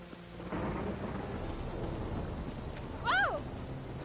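Rain falls steadily with a rolling rumble of thunder in The Witcher 3, and a short meow-like cat cry rises out of the wet ambience near the end.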